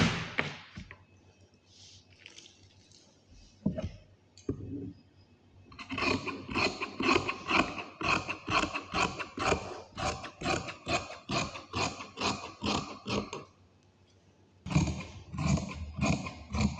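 Scissors cut through fabric for pencil-cut pants in a long run of rapid, crisp snips close by, with a few isolated cuts first and a pause before a final burst.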